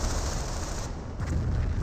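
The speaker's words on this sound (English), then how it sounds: "Got multiple AT guns firing away." Several anti-tank guns fire in Company of Heroes, a short burst of dense overlapping gunfire and booms in a loud battle mix.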